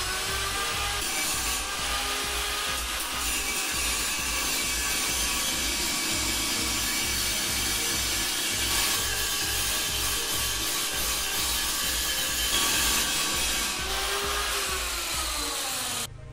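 A wire brush scrubs the welds on a Piaggio Vespa fender in a restoration, making a steady, loud scratchy rasp with rhythmic strokes that continues unbroken throughout, with no voices.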